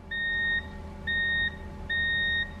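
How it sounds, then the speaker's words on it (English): A multimeter's continuity tester gives three identical high-pitched electronic beeps, each about half a second long with short gaps, clear and steady over faint background hum, while wiring a golf cart key switch. "So once the system makes contact with each other, you hear an audible beep."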